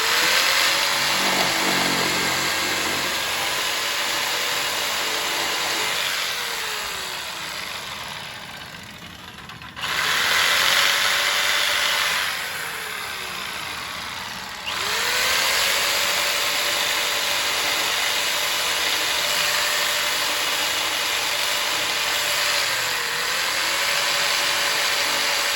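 A handheld jigsaw runs continuously while cutting through painted material, its steady high-pitched whine dipping and rising in pitch as the load changes, loud and close with no talking.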